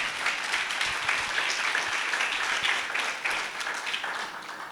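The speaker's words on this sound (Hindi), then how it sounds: "उनको भी ताली बजा के स्वागत करेंगे" Congregation applause welcoming a speaker at a Hindi church gathering, a steady, dense roar of many hands clapping filling the room, even in level with no speech over it.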